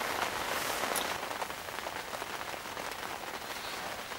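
Steady rain pattering on the water at a carp fishery on a cold, wet day, a dense, continuous hiss of close drops with no voices over it.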